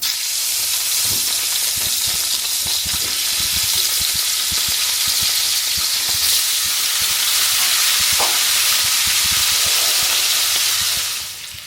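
Paneer pieces frying in hot oil in a pan, a loud, constant crackling sizzle with occasional sharper pops and scrapes, lasting throughout and easing off at the very end.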